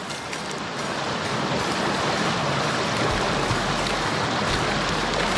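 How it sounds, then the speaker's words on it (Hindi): Water rushes along a stream at Manas Chowki, a loud, steady broadband roar up close that continues unbroken throughout. "आप लोग देख सकते हैं ये पानी बह रहा है इधर"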